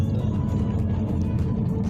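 Minibus engine rumbling while driving on a trip, a steady low droning roar heard from inside the vehicle, continuous and fairly loud.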